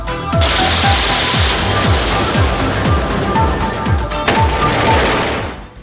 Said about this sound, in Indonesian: sistem persenjataan CIWS bernama Millennium Gun